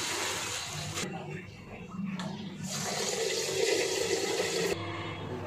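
Tap water runs steadily while rice is rinsed for chicken biryani in a home kitchen, with brief splashing shifts and a moment of softer flow partway through.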